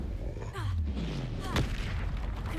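Incendio fire spell cast in Hogwarts Legacy, a rushing whoosh with a descending tonal sweep and a brief sharp burst partway through, over a continuous dense game soundscape.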